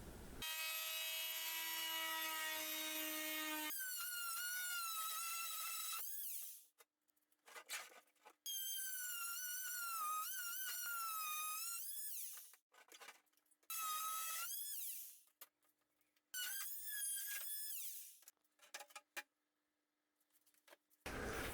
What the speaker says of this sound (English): I'm using an oscillating tool, but also a hacksaw can be used to make the cuts by hand.